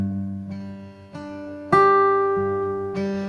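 Fingerpicked guitar pattern with the ring finger accenting the top string, several overlapping plucked notes where one bright attack stands out louder than the soft surrounding strings, close and unaccompanied.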